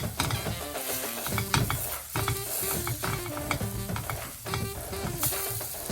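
Ground almond, coconut and sugar are stirred into a sizzling tomato-spice mixture in a pan, with a constant frying hiss and repeated scraping strokes of the spoon in a steady rhythm, close by.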